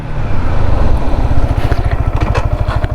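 Yamaha XSR 155 motorcycle slowing under braking from speed, its engine note dropping from a steady drone into a loud, close, rhythmic low pulsing idle-like thump, with no talking.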